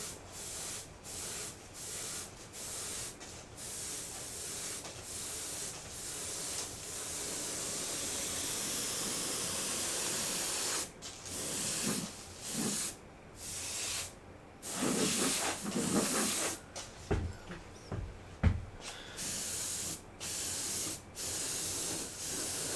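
Steady hissing bursts from a spray can painting and weathering a 1/48 scale U-boat model hull, long continuous passes at first, then shorter spurts separated by brief pauses, close and fairly loud.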